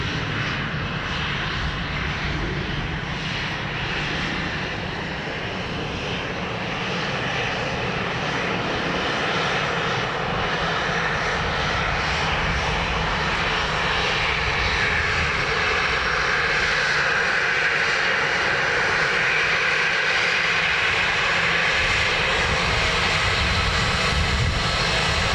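A Ryanair airliner lands on runway 28 left at Dublin Airport, its engines roaring steadily and loud for the whole stretch, with a broad, continuous rush that swells slightly toward the end.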